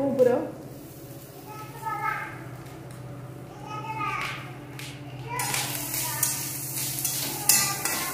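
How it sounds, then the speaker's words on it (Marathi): Grated coconut being dry-roasted in a pan and stirred, giving a soft continuous scraping and light crackle under someone talking, with children's voices nearby and a brighter hissing rise toward the end. "खोबरं भाजून घेऊया तांबूस कलरपर्यंत मस्त पैकी कच्च ठेवायचं नाही"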